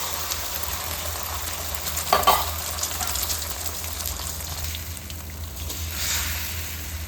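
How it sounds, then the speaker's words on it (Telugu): Five beaten, salted eggs poured into a little hot oil, a soft continuous fry hiss with a brief splash as they hit the pan, fairly quiet and without talk. "ఇప్పుడు బీట్ చేసుకున్న ఫైవ్ ఎగ్స్ ఇందులో కొద్దిగా సాల్ట్ వేసానండి ఇది కొద్దిగా ఆయిల్ ఉందండి అందులో వేసేస్తున్నానండి"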